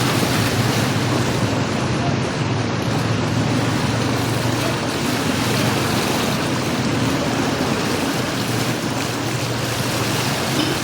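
Rushing floodwater surging fast through a flooded street, a dense continuous roar of churning water with wind-like noise, steady and loud throughout with no clear breaks.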